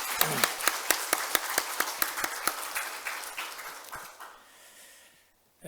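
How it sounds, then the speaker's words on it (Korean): A church congregation applauds in a sanctuary, beginning with a few sharp individual claps that thicken into applause and then fade toward silence. "하나님 앞에 크게 다시 한번 영광의 박수를 돌리겠습니다."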